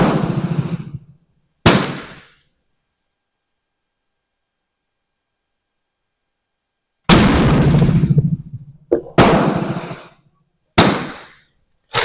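An 1886 Mannlicher rifle loaded with black powder fires over a chronograph, giving several loud, sharp reports with quick decaying echoes, separated by stretches of silence.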